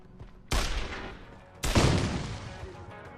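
Two heavy revolver shots from Deus Ex: Human Revolution, each a sharp loud crack with a booming decay, about a second apart.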